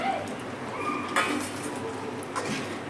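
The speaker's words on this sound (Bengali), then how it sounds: "এবার আমি চিকেনটার মধ্যে দিয়ে দিচ্ছি আলু" Potatoes going into a pot of Bengali-style chicken curry over high-to-medium heat, with clinking pot and utensil knocks and a soft scrape amid a low steady cooking hiss, no talk.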